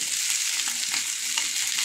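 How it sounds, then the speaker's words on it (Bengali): Fish fries in a pan after being turned to cook the other side, with a close, loud, unbroken crackling sizzle from start to finish. "আমি মাছগুলোকে উল্টে অন্য পাশটা খুব সুন্দর করে ভাজবো"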